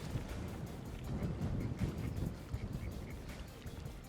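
Gusty wind buffets the microphone outdoors beside a fishing lake, a fairly faint rushing rumble that swells and drops, with soft water and distant duck sounds mixed in.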